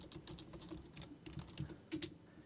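Soft, rapid keystrokes on a computer keyboard while code is typed, faint and close, forming a quick irregular patter with a few louder taps.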